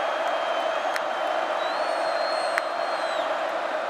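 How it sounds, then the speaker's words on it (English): Roaring college football stadium crowd during a Big 12 game, a broad sustained wash of noise with scattered whoops and a faint whistle tone drifting over it. "This crowd making some noise."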